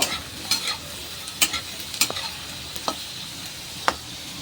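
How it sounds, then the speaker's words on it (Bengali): Softened potatoes frying in a pan over a high gas flame, a low steady sizzle broken by sharp scraping stirs of the spatula at irregular intervals, close by and with no talking. "এবার গ্যাসের আঁচটাকে জোরে করে আমি বেশ একটু লাল লাল করে ভেজে নেব"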